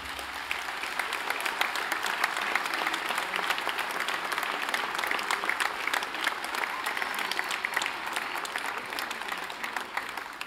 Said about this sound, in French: vous pouvez en plus les applaudir